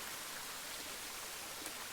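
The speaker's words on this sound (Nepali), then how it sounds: "अनि यहीँ खोलाहरू छन्" Flowing mountain streams sound here as a steady, even wash of broadband rushing water, moderately faint and unbroken for the whole stretch, with no voices over it.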